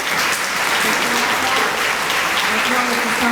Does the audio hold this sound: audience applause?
yes